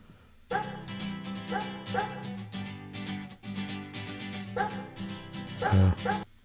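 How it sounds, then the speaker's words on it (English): Repeated dog barks sampled into the studio version of a rock song, sharp yips and woofs landing in rhythm over the band's music. "Why is there a dog sample?"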